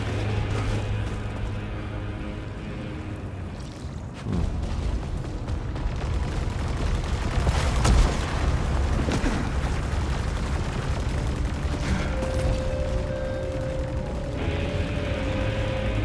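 Video game Saros weapon fire and explosions: a dense, continuous barrage of shots and booms with mechanical clatter, steady and loud throughout.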